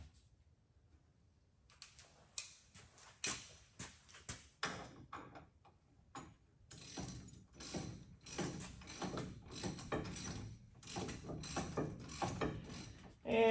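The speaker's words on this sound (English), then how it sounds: "ratchet." A ratchet tightening brake caliper parts during a drum-to-disc brake conversion on a 1963 Mercury Meteor: a few separate clicks at first, then long dense runs of rapid ratcheting, close and fairly loud, with no talk.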